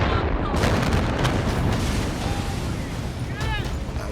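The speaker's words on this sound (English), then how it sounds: "The Tianjin explosion is one of the most terrifying pieces of footage I've ever seen." A massive industrial warehouse explosion in Tianjin, China, heard as a heavy, sustained low rumble and roar filling the scene, with faint distant voices and squeals over it.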